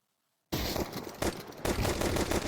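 A sustained burst of rapid hand-cannon pistol gunfire in a Counter-Strike 2 match on the Anubis map starts abruptly out of silence and continues loud and dense for about two seconds.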